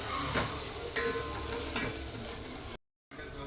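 Ingredients for a mackerel (bangda) fish curry roast in a pan, giving a steady close sizzle with a few scraping stirs of a spoon against the pan before a short silent gap.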